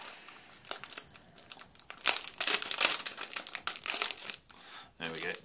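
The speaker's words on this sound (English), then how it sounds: "I'll cut the sucker from the back." Blade cutting into the back of a tough 2004 MRE vegetable manicotti pouch, heard as loud close crinkling, scraping and tearing of stiff plastic packaging in irregular bursts, with someone talking over parts of it.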